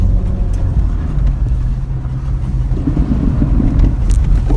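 A GWM Tank 300 diesel SUV drives through a puddle off-road, with a heavy low rumble of engine and water throughout and a few brief splashes near the end.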